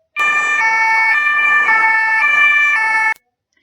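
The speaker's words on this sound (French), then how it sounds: "120 décibels, c'est le niveau sonore d'une sirène de police." A loud electronic siren with a two-tone wail, alternating pitch about every half second, steady and close for roughly three seconds before cutting off.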